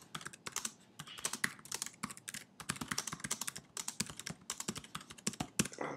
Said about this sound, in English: Type in something quickly here.